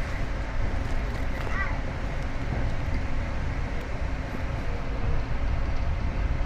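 Fuel tanker train rumbling past near Waru station, heard from aboard a moving Jayabaya executive train as a steady low rolling roar with faint clanks, and a voice speaking briefly over it.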